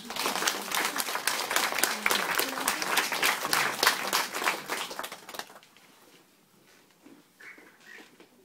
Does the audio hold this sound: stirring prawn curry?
no